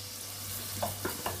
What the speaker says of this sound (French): Allez, on laisse ça rissoler tranquillement